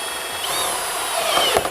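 Power drill boring a hole through the hood of a 2015-19 Ford Mustang during a hood strut kit install, a steady high whine close by that rises to a harsher grinding burst near the end.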